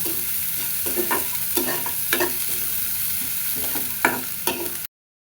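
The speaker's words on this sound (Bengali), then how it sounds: "একটু ভাজা ভাজা করে নিব" Onion, garlic and dried red chilies fry in hot oil over cumin seeds for masoor dal, giving a steady close sizzle broken by repeated spoon scrapes and knocks against the pan before the sound cuts off abruptly.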